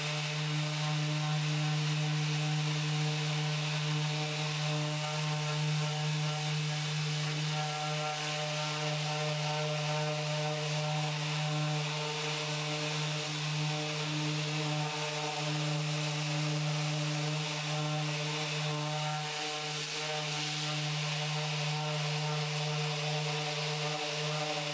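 A loud, continuous mechanical whine with a steady droning hum from a Mirka Deros power sander, connected to dust extraction, running against exterior timber without pause.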